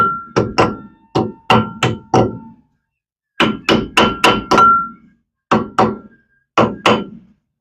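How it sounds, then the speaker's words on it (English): A grease cap being tapped onto a wheel hub of a 1980 Monte Carlo with a hammer, sharp close metallic knocks in quick bursts of two to four strikes separated by short pauses. "Tap your grease cap on like that"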